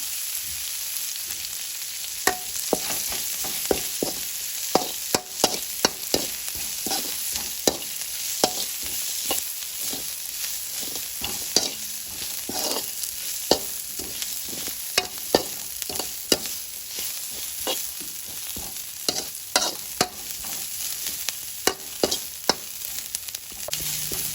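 Steady sizzle of Thai curry paste frying in hot oil, with frequent scraping clicks from a utensil stirring the pan, close and continuous.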